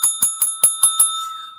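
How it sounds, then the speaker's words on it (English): Bicycle bell rung six times in a quick, even rhythm, each bright ring clear and close, then a short fading ring-out. "You can ring my bell."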